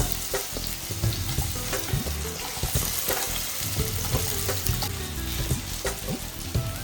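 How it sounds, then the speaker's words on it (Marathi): Peanuts, hot green chilies and potato frying in ghee, a steady close sizzle with scraping and stirring clatter throughout, no talk. "स्नेहाने साजूक तूप टाकलेलं आहे आणि मग त्यानंतर मिरची, तिखट मिरची 2 घेतलेली आहेत आणि मग त्यानंतर बटाटा,"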